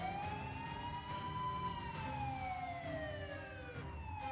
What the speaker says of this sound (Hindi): पुलिस की एक नहीं बल्कि दो गाड़ियां हूटर बजाते हुए, लाइट जलाते हुए तेजी से आगे बढ़ रही हैं।